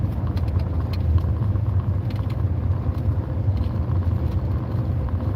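Steady low rumble of a car driving on a road, heard from inside the cabin, a constant muffled drone of engine and road noise with no voices.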